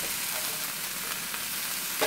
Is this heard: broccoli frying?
yes